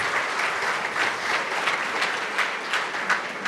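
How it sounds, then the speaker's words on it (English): Applause from a conference audience, a dense steady clatter of many hands clapping at close range, running throughout without talk. "Thanks for the applause"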